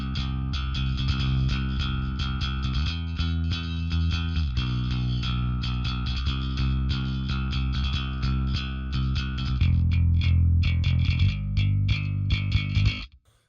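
Bass guitar picked hard through an Ampeg SVT4 Pro amp into an 8x10 cabinet with a compressor on, driving a loud, even, gritty riff of steady picked notes, alone and close.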